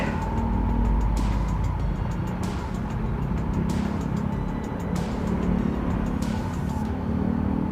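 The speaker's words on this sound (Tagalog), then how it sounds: "Rush hour na, traffic na ngayon." Rush-hour road traffic: a loud, continuous roar of engines and tyres with several cars passing close by in turn.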